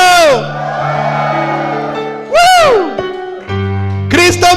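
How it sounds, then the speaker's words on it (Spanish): A church congregation shouts for joy in long, rising whoops and yells, loud crowd bursts that swell, fall away and return in several waves with sustained voiced tones between. "¡Un grito de júbilo!"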